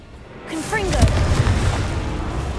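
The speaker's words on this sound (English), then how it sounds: "Confringo!" A Confringo spell blast in Hogwarts Legacy bursts with a sudden loud boom and rolls into a sustained rumbling crackle, while a voice calls out over it.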